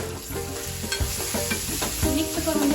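Spices such as turmeric, cumin powder and coriander powder are stirred into a cooking potato rassa curry, with repeated scraping and clinking strokes of a spoon over a steady sizzle, close and fairly loud.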